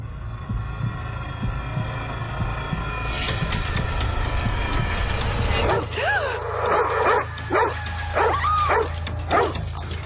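A dog barks in a short burst of sharp, repeated yips and barks partway through, over a steady low hum and throbbing background, close and fairly loud.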